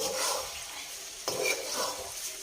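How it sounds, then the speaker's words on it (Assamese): Broiler chicken meat is stirred in a cooking pot, a close, steady frying hiss with a spoon scraping and a sharp clatter against the pot midway, and no talking. "5 মিনিট পিছত বৌ মাংসখিনি লৰাই দিব আহিছে"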